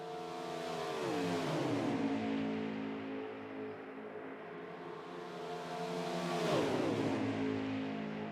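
Racing trucks roar around the Talladega track in a tight pack, their engines swelling loud as they pass, fading, then sweeping by again, the harmonic engine tones bending sharply with each pass.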